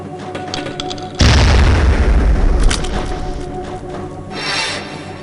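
A thrown detonator core exploding at a hologram target in the Half-Life Gunman Chronicles video game: a loud sudden boom after a quiet stretch, with a long rumbling decay and a faint hiss trailing off.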